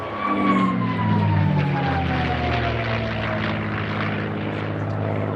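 North American propeller airplane passes at the La Ferté-Alais air show, its steady engine drone close and loud with a pitch that slides gradually lower as it flies by.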